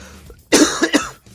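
A voice imitates a game character coughing and gagging, with a few harsh, close, loud coughing bursts in quick succession.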